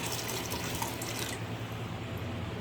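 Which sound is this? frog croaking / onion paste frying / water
water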